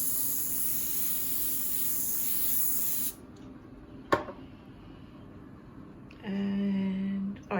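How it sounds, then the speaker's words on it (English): Coconut oil cooking spray hissing onto potatoes, a steady close spray for about three seconds, followed by a short tap and quieter kitchen sounds. "I think I might just spray it with coconut oil, because that always gives a nice crispy coating to potatoes"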